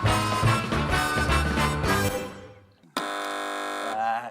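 Game show buzzers on a British panel quiz, bright electronic tones that sound loudly, fade away, then a second sharp sustained buzz cuts in and holds for over a second.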